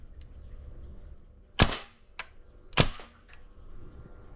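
A VFC MK18 V3 gas blowback airsoft rifle fires two sharp, loud single cracks about a second apart with faint mechanical clicks between them, as the rifle keeps malfunctioning.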